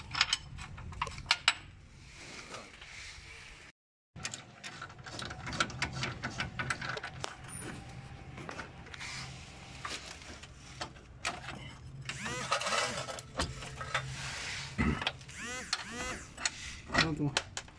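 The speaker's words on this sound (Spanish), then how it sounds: "ahora vamos a sacar con llave 18 igual, vamos a sacar los tornillos pasantes" An 18 mm wrench loosens through-bolts during a car steering repair, making intermittent metallic clicks, creaks and ratcheting up close, with a short pause early on and a voice heard talking.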